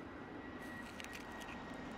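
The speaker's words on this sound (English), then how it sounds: "That was a loud plane." An airplane passes overhead as a steady, broad, distant roar beside a parked Hyundai IONIQ 5 electric car, with no talking.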